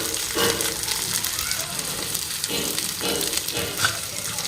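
Onion and cabbage sizzle steadily in a hot frying pan, a dense crackling hiss that runs throughout with a few louder bursts, close and fairly loud.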